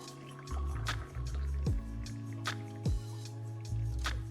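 Tea leaf rinse water poured out of a lidded vessel, a few close wet drips and splashes with short liquid trickles over a low steady hum, no talk.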